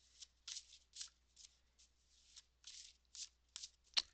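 A deck of cards is riffled and shuffled close up, with quick separate bursts of fluttering card snaps in an irregular rhythm and a sharper snap near the end.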